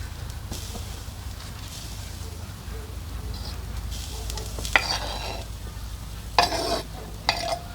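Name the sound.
sausages frying over campfire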